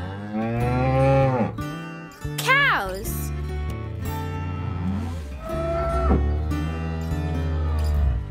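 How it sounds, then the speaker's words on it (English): A cow moos several times in long, drawn-out calls, loud and close, with a short higher bleat-like cry in the middle and pauses between calls. "Cows are large farm animals."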